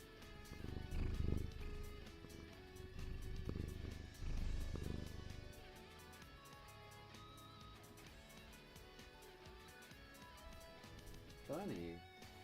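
A pet cat purrs close by, a low steady rumble that swells in two stretches near the start and then fades, with bright electronic game music and effects running throughout.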